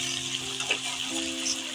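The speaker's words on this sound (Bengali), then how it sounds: "এই আদা রসুন পেস্ট এবার দিয়ে দেবো।" Ginger garlic paste sizzling in hot oil in a pan where potatoes and cauliflower have just fried, a steady close hiss with light stirring scrapes throughout.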